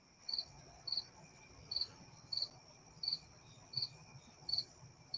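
Crickets chirp outdoors in short, evenly spaced bursts about every seven tenths of a second, steady and fairly faint over a soft background hum.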